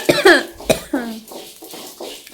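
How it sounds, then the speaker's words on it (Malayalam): A woman coughs several times close by in a home kitchen, short raspy bursts with a throat-clearing quality, mixed with brief voiced sounds. "ചുമയൊക്കെ വരുന്നുണ്ട് കേട്ടോ."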